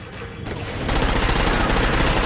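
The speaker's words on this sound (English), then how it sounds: "Watch out for the signs that vehicular damage is so great that an explosion is imminent" A vehicle explosion in the Xbox game Crackdown 2, a loud dense burst of blasts and crackling debris that swells after a brief lead-in and stays intense to the end.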